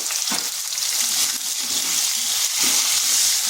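Potatoes frying with turmeric and salt in a pan, a loud, continuous, close hiss of sizzling oil with faint stirring knocks underneath.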